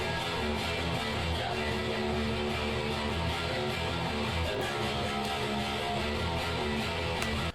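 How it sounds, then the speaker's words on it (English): A very loud guitar amp, miked from a microphone pointed down into a toilet, roars as a dense, continuous distorted wash with a few sharp peaks, steady level and no talking. "and then played my amp very loud."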